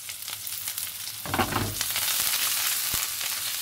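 Green chilies and curry leaves sizzle in hot oil in a pan, a loud close crackle that flares as they hit the oil and then settles into a steady fry with a few stirring clicks.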